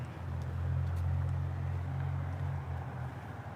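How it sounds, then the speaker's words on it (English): A car engine rumbles nearby as the vehicle pulls up from behind, a steady low drone that swells slightly and then holds, with no talking. "I hear an engine sound behind me as this car is pulling up."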